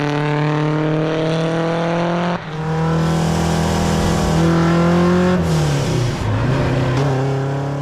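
A 520whp Subaru BRZ hillclimb car drives on a racetrack, its engine loud and close throughout, holding steady then dropping briefly before pulling harder with rising and falling revs.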